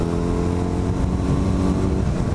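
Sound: motorcycle engine running while riding

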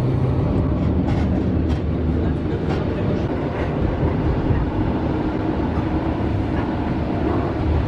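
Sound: train travelling on rails, heard from inside

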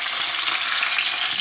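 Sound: rotan fish frying in a pan

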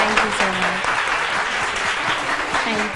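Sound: audience applause for a singing couple

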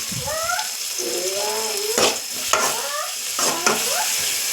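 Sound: spices with turmeric and garam masala sautéed in a pan

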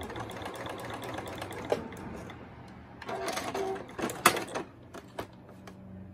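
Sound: sewing machine back-stitching a fabric scrunchie

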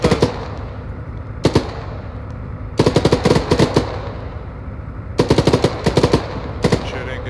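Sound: gunfire from the video game Arma 3

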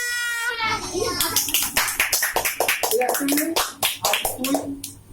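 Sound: audience clapping

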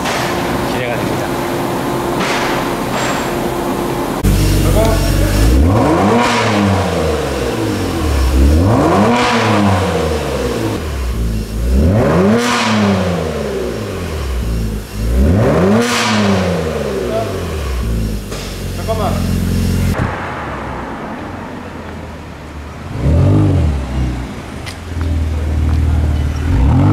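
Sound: car engine revving with custom exhaust

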